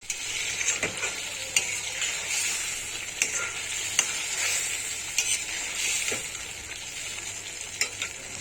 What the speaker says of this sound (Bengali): কাটা টমেটো দিয়ে ভালো করে নেড়ে দিচ্ছি